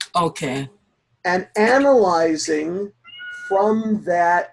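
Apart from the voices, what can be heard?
cat meowing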